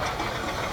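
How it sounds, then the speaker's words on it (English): A steam-powered water pump runs off a boiler at a steam rally, drawing water from a river, giving a dense, continuous hissing, knocking mechanical churn up close for a brief moment. "They running a steam-powered water pump, so the steam comes off the boiler"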